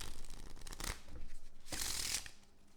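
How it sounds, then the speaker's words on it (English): Playing cards shuffled face up and face down, two brisk riffling bursts close to the ear, each a quick crisp flutter, at low overall level. "shuffling the cards face up and face down."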